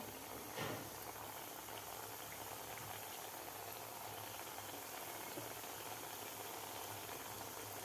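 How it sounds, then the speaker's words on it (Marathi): Balushahi frying in oil in a pan over a low gas flame, giving a steady, quiet bubbling sizzle throughout with no talk over it. "तर हे सुद्धा आपल्याला सहा ते सात मिनिट व्यवस्थित तळून घ्यायचे आहे बालुशाही बारीक गॅसवर"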